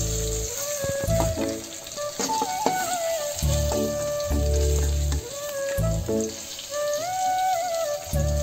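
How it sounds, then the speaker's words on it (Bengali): Paneer frying in hot oil in a home kitchen, a steady bright sizzle with crackling pops, interrupted now and then by louder clattering of a pan and utensils. "পনিরটা ভাজা হয়ে গেছে, আমি পনিরটা নামাই নেব।"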